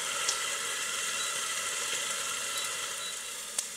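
Steady close sizzling of chicken fillet frying in a covered pan, a continuous hiss with a couple of faint pops and no speech.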